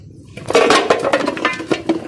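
Beef trotters are put into a metal cooking pot, making a close, loud run of knocks, clatters and clinks, with no talking.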